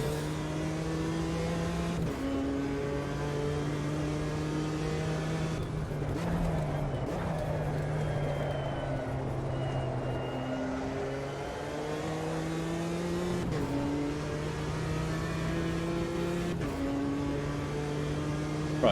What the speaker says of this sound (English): Hear that traction control?